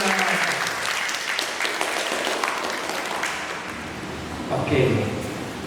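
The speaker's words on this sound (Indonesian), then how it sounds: "Oke, kita kasih tepuk tangan untuk Tunas." An audience at a mindfulness training session claps for a participant in a sustained round of applause, close and fairly loud, with a voice speaking over the clapping toward the end.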